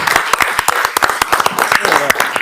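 A crowd at a town meeting claps in steady applause, dense and fairly loud, with voices mixed in underneath.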